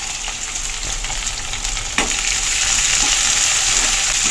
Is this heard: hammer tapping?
no